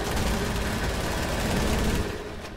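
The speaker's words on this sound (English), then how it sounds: "I hear a lot of gunfire up here" Dense, continuous rapid gunfire in a video game with loud broadband bursts, sustained for a couple of seconds before fading slightly at the end.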